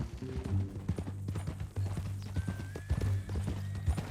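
A horse's hooves clip-clop in a steady walking rhythm in Red Dead Redemption 2, close and distinct, over a low droning musical tone.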